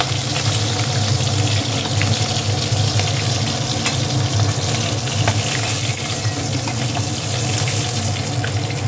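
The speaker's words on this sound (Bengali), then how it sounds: "মা এবার সব মাছগুলো এক এক করে ভেজে তুলে নেবে।" Fish frying in hot mustard oil in a pan, a loud, dense and continuous hissing sizzle that holds steady throughout with no talking.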